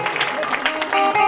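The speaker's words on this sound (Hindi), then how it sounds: "जोर से ताली हो जाए यीशु मसीह के लिए।" A crowd claps loudly for Jesus Christ at a Christian prayer and healing gathering, dense steady applause with voices mixed in.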